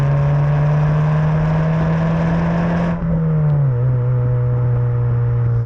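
A Ford Fiesta Zetec S fitted with a new, loud aftermarket exhaust drones steadily from close by, its engine holding a strong, even tone that drops slightly in pitch partway through, with no voices over it.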